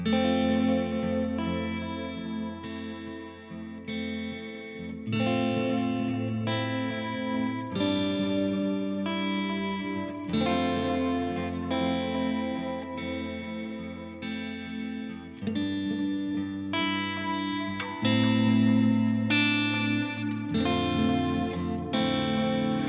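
Slow, ringing electric guitar chords are strummed one after another, washed in chorus and distortion effects, with long sustain between changes.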